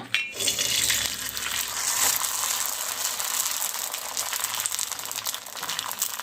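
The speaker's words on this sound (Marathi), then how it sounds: "तेल घातलेलं आहे. आता आपण ह्या आधी तळून बघूया." Pink beetroot and poppy seed papad fries in hot oil, giving a bright continuous sizzle and crackle that starts abruptly and holds steady, close and fairly quiet, with no talking.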